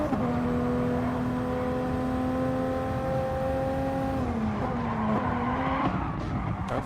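Race cars on soft tyres battle on track in a sim racing game, engines droning steadily with shifting pitch and tyre squeal, continuous and loud throughout.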